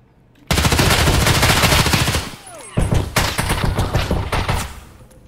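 Sustained automatic gunfire in Escape From Tarkov: a loud, dense burst of rapid shots runs for about two seconds, breaks briefly, then resumes in choppier volleys that trail off.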